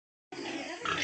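A pig in its pen gives a single brief, close grunt after a moment of silence, a short rough snort heard alone.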